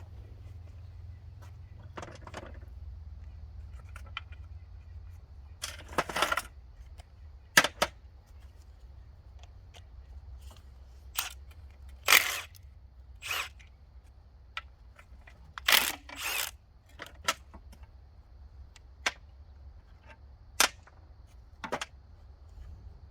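A socket wrench works on a part of a Honda CT70 motorcycle. Short separate bursts of metallic clicking and ratcheting come over a low steady hum, with quiet gaps in between.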